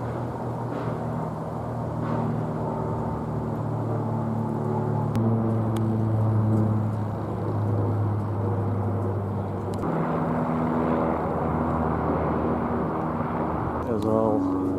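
A fixed-wing airplane drones overhead in a steady low engine hum that shifts down in pitch as the engine reduces, with someone talking over it throughout.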